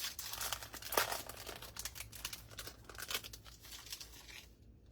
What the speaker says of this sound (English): I'm just gonna grab this pack of foam tape